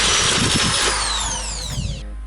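A power drill re-bores the holes of electrical cable lugs during a winch install on a Jeep Cherokee XJ, a loud close whirring grind whose pitch slides downward as the bit bites, then stops.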